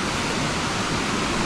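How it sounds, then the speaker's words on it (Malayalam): Steady broadband rush of a small waterfall spilling over a check-dam-like ledge into a flowing stream in Idukki, continuous and fairly close with no voices. "ഈ ഒരു വെള്ളച്ചാട്ടം, ചെറിയ ഒരു വെള്ളച്ചാട്ടം, ഒരു അരുവി പോകുന്നത്"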